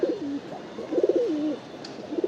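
Male pigeons in a loft during hot weather coo close by in several repeated, rolling phrases with brief pauses between them, alone with no talk.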